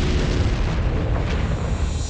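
A huge blast from the 1997 Kırıkkale munitions factory explosion rolls out as a loud, sustained low rumble with no distinct onset, filling the whole moment like distant booming.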